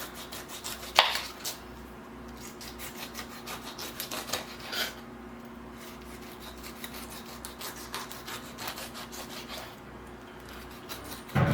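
A knife peels a Pinkglow pink pineapple with rhythmic rasping, scraping strokes against the tough rind, close and moderately loud, with a few sharper cuts along the way.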